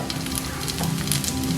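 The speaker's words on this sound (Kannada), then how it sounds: "ಈಗ ಇದನ್ನ ಹಾಕ್ಕೊಳ್ತಾ ಇದ್ದೀನಿ ಚಪ್ರದವರೆನ." Flat beans (chapparadavare) tossed into a pan of softened onions, raising a loud, steady close-up sizzle with a faint crackle and no one speaking.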